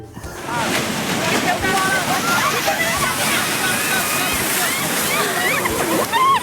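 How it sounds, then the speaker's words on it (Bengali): Sea waves at Digha beach rushing into a river where the two meet, a loud continuous wash and slosh of water, with voices audible over the surf. "সমুদ্রের ঢেউয়ের জল এসে নদীতে পড়ছে"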